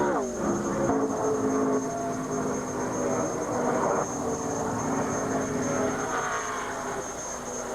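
A NASCAR race car at 1999 Speedweeks powers out of turn 2, its engine a steady, loud roar with a shifting pitch that drones on for several seconds.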